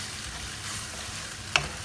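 Turmeric beef with broccoli stir-fries in a pan, giving a soft, even hiss of frying with a single sharp utensil tap toward the end, fairly quiet.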